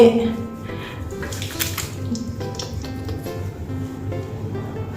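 Water splashed over a face to rinse off cleansing foam: close, continuous sloshing and splashing in the hands, fairly loud, with faint voices murmuring underneath.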